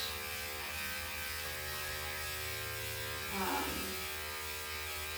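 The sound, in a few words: electric grooming clippers running with a 4 blade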